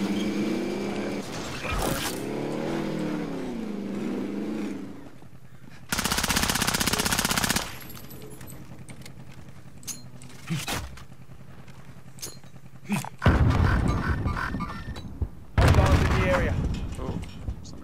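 Enemy gunfire coming from above in a multiplayer shooter game: bursts of automatic fire and scattered single shots, some loud and close, others sharper and distant, with engine-like rumble and voices heard in between.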